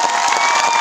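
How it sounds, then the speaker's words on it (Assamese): Audience applause at a network marketing meeting, a dense steady wash of clapping and crowd noise filling the short moment with no pauses. "জবৰদস্ত মই তালি বিচাৰো"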